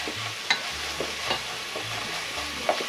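Ginger and garlic paste stir-fried with onions in oil for chicken biryani, a soft continuous sizzle broken by a few sharp scrapes and clicks of a spoon against the pan, close by and fairly quiet.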